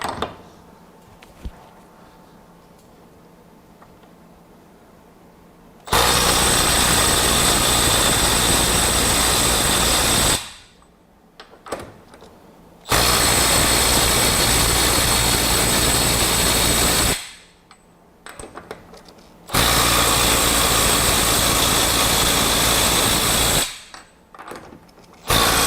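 Milwaukee M12 FUEL 2565 right angle impact wrench tightening fasteners: three loud, sustained hammering bursts of roughly five seconds each, separated by short quiet gaps, close up with no talking.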